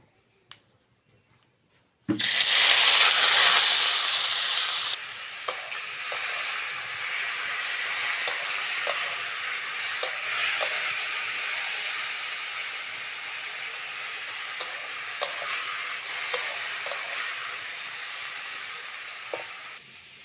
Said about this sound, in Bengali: প্রথমে চিংড়ি মাছটা ভেজে নেব লবণ হলুদ দেওয়া চিংড়ি মাছটা ভেজে নেব